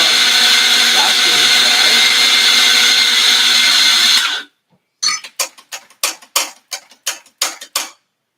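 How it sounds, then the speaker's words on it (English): A small electric coffee grinder whirs continuously through a batch of beans, then cuts off, followed by a series of sharp knocks and taps as the grounds are cleared out. "So I'm going to grind some more coffee."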